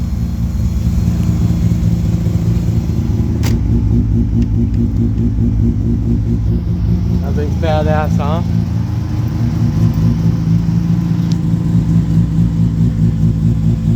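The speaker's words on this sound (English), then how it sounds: "This truck's got a completely built turbocharged motor." A truck with a fully built turbocharged motor and full roll cage rumbles steadily nearby, with a brief rising rev around the middle, while people talk over it throughout.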